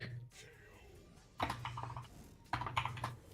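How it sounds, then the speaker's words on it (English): Bursts of rapid computer keyboard typing, close and fairly quiet, coming in three quick flurries separated by brief pauses. "my typing's really bad today"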